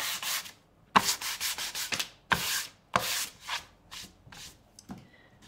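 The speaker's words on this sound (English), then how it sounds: "I'll give it a sand, but it doesn't hurt the paint at all" Sandpaper rubbing over a surface painted minutes earlier with a roller and sponge for a shaded winter decor background, in steady repeated strokes that are close and fairly loud with short pauses between passes.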